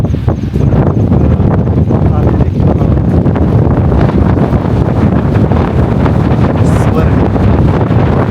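Strong wind buffeting the microphone in a constant loud roar on a misty monsoon fort summit, gusting throughout with no pause.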